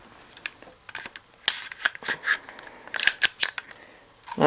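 An airsoft M4 gas blowback bolt is slid back into the rifle, giving a series of close, sharp plastic and metal clicks and scrapes in uneven bursts with quiet gaps between.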